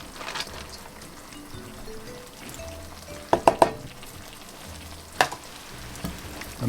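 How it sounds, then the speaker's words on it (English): Noodles for a sweet and sour chicken stir-fry sizzle steadily in a hot pan, with a few sharp clatters of stirring around the middle and once more near the end. "So we're going to put in our noodles now."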